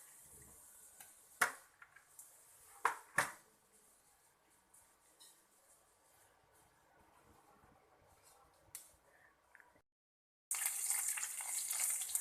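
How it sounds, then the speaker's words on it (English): Cumin seeds hit heated oil in a pan, a bright burst of sizzling after several quiet clinks and taps of utensils. "Now for another pan, I'm adding oil. Once the oil is heated, I'm adding jeera."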